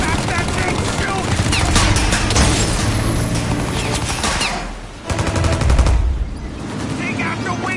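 Rapid bursts of heavy mounted-gun fire in Mafia Definitive Edition, loud and close, with a short lull before another volley, while voices shout over the shooting.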